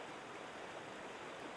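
Water rushing steadily into a canal lock on the Champlain Canal, a continuous broadband gush and roar like a stream or small waterfall, fairly loud and unbroken, with no talking.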